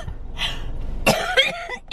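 A few loud, close coughs in quick succession, harsh and throaty, with short gaps between them.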